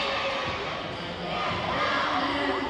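A high school girls' varsity volleyball crowd, Lake Orion Dragons against Troy, keeps up an energized gym roar of cheering and shouting voices, steady and fairly loud with a swell near the end.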